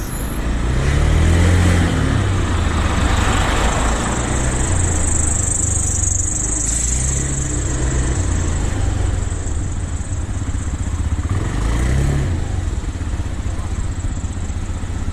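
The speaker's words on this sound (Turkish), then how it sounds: "Motor çok sessiz." Honda Dio scooter engine running close by during a ride, a steady low putter and drone with rising and falling revs, wind noise over it throughout.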